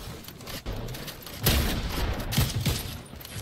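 Shotgun shots at clay targets on a shooting range: a couple of muffled, fairly distant bangs rise out of steady outdoor background noise, with no talk.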